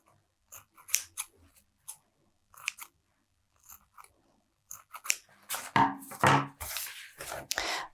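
Scissors snip through thick cereal-packet cardboard in a series of short, crunchy cuts, sparse at first and then coming close together and louder, heard up close with no talking.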